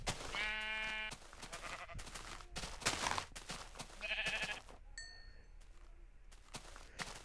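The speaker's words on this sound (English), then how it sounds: "Sheepies! Sheep." Sheep bleating in the Minecraft video game, two clear harmonic bleats separated by clicks and game sounds, with a bright chime near the end.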